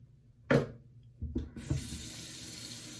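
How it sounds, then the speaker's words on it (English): Warm water from a tap runs into a sink to wet a shaving brush, starting with a few splashy bursts before settling into a steady stream, close and fairly loud. "Get the brush nice and wet with some warm water."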